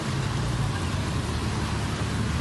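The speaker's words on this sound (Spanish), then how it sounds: "Está lloviendo y aun con todo hay muchísima gente y muchísimo tráfico." Steady rain pouring down on a busy London street, a dense continuous hiss with a low rumble of traffic underneath, no voices.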